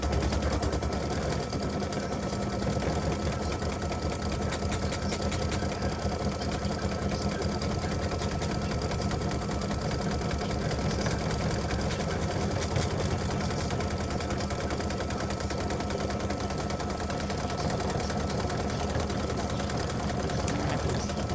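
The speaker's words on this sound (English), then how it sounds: "it's going around now to do the satin stitching around that part of the ribbon" Embroidery machine satin stitching around the ribbon section of a breast cancer awareness ribbon earring, a steady, rapid mechanical needle chatter running continuously and close throughout with no talk.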